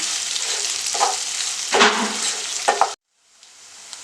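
Chicken fried rice with onions being stirred in a hot pan, a dense continuous sizzle broken by scraping strokes of the spatula, then cut off abruptly before a fainter hiss returns.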